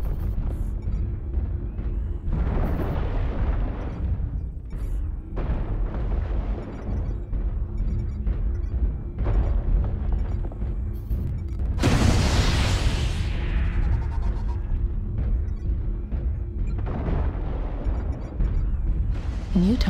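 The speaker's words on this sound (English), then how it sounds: "Artillery strike online." Heavy artillery strike explosions in the video game MechWarrior Online, a run of loud deep booms and rumbling blasts, with one sharp hissing burst standing out midway through, and no talking.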